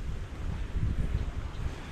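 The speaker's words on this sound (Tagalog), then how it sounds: "Grabe lakas ng hangin" Strong wind roars steadily against the microphone in an outdoor vegetable garden, a dense low rumble with gusty swells and no speech.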